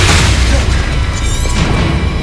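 A Bombarda spell goes off in the Hogwarts Legacy video game, a loud, heavy booming blast with crashing debris that fills the whole short moment without any voices.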